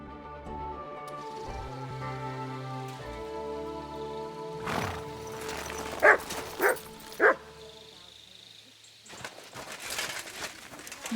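A dog in Kingdom Come Deliverance 2 gives a few sharp barks over a medieval game scene with musical tones and horse sounds, the barks loud and clustered, followed by rustling movement.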